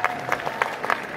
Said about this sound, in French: Ouais, c'est bien de l'applaudir.